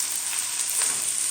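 Potatoes tipped into a pan of frying onions for potato bonda give a bright, steady sizzle, close and evenly hissing throughout the short moment with no voices.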